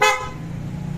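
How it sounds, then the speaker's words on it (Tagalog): A single short, bright motorcycle horn beep at the start, then a steady low engine idle rumbling underneath. "Yun o. Busina."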